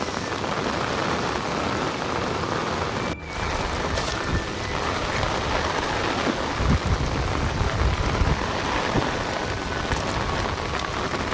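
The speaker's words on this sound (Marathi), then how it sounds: "एकदम पाऊस." Heavy rain pours steadily in an outdoor rocky spot, a dense, loud hiss of drops on surfaces with occasional heavier splashes and a faint rumble, continuous throughout with no talking.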